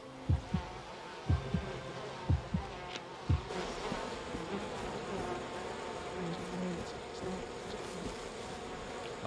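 Bees buzzing in the video game We Happy Few, a continuous insect hum with soft thumping footsteps or knocks early on, steady and fairly quiet throughout.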